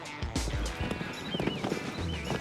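A horse canters on sand in an indoor arena, soft muffled hoofbeats thudding in quick rhythm close by, with faint voices and high squeaks in the background.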